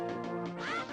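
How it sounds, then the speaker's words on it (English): Cuccos, the chickens of The Legend of Zelda: A Link to the Past, squawk in a brief burst of harsh, quacking game cries after being attacked. "did you attack the chicken? I mean the cuckoos until they go crazy"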